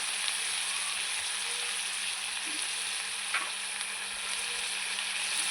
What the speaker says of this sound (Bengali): ভালো করে নাড়াচাড়া করব ভালো করে মশলাটা আলুটা